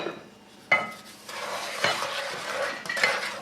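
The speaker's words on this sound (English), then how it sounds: "we're going to go ahead and stir this up and take this off of the heat." Sugar and vanilla stirred in a metal pot beside a kamado grill, with a spoon scraping and clinking against the sides in close, steady strokes over a faint sizzle.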